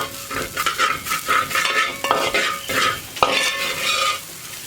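Rice roasting in ghee for ney payasam sizzles in the pan while a spoon scrapes and stirs it in quick repeated strokes, close and fairly loud.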